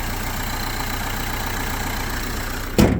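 A 2012 Renault Kangoo engine idles steadily with an even, low rumble, ending with a short loud bump or clunk nearby.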